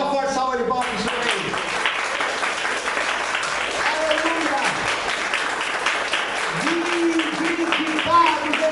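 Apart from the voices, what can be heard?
congregation applauding in church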